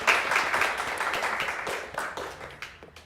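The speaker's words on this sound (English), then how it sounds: "give him applause for this answer" Clapping from an audience at a business talk starts strongly, a burst of many hands, then thins out and fades over about three seconds, leaving scattered claps at the end.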